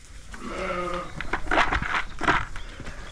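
Ewes in a shed at lambing time, bleating loudly and close by, several overlapping calls over about three seconds.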